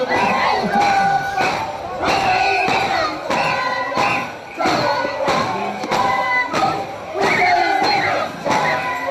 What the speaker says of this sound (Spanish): que se escuchen esos aplausos